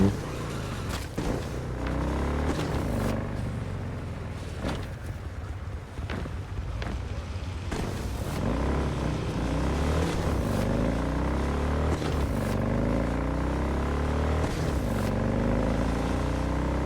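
Motorcycle ride in the Cyberpunk 2077 video game: a steady engine drone with rising and falling pitch sweeps as the bike accelerates and shifts, loud and continuous, with wind rush over it.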